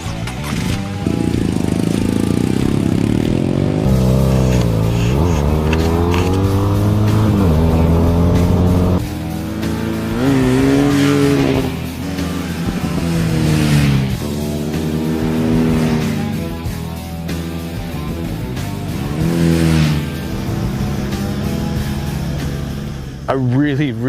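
A 2014 BMW R nineT motorcycle being ridden, its engine droning and rising and falling through gear changes, loud and close, with wind rush and a voice talking over it.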